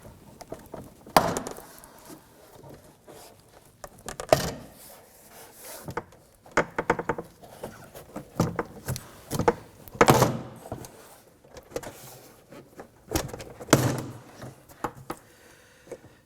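Plastic trim clips pop and thunk as a front door panel is pried off a 2003-2014 Volvo XC90, a series of sharp cracks and rubbing scrapes at close range with pauses between pulls.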